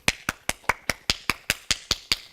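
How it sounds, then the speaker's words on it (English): Twelve sharp, evenly spaced hand claps ring out alone at about five per second, crisp and close, each with a quick decay. "Now clapping, I wasn't clapping the neck, I was dispersing energy."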